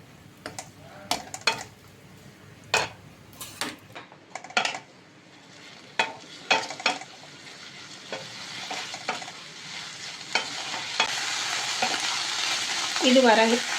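Moringa leaves and fresh coriander sauté in a pan, with a spatula scraping and tapping in irregular strokes over a soft sizzle that swells louder toward the end.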